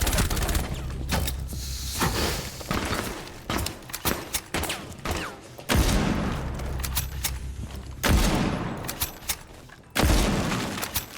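Rapid bursts of gunfire from a first-person shooter video game, with loud repeated shots and heavy recoil-style booms in clustered volleys, some spaced pauses between bursts, played close and alone.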